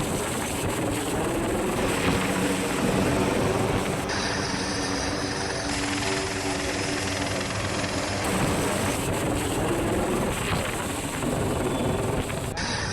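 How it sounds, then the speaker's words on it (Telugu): A helicopter flies overhead while dropping food supplies to flood victims in Andhra Pradesh, a continuous loud rotor and engine drone that holds steady throughout with shifting tonal bands and no voices. "వరద బాధితులకు ఆహారం సరఫరా చేసేందుకు ఒక పక్క హెలికాప్టర్ కనిపిస్తోంది"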